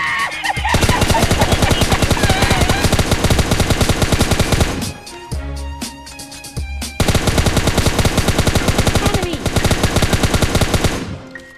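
Rapid bursts of MP5K submachine gun fire in a video game rattle loudly and almost continuously, with a short break of scattered shots midway before the automatic fire resumes.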